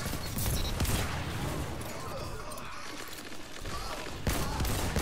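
Double cannons fire in rapid, dense bursts during a video game match in the Crucible, a continuous clattering barrage of shots with brief pauses, fairly quiet overall.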